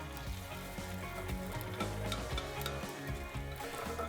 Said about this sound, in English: add your onion and garlic to the saucepan and fry for about 5 minutes